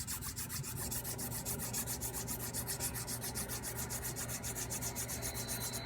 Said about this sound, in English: What I'm doing now is I'm polishing the end of the fret and getting rid of any of the other little burrs that are left on it.